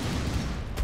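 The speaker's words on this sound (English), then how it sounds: "That was a crappy grenade." A muffled, low, rumbling grenade blast in the video game Grim Dawn, brief and fairly faint, with a short thud near the end.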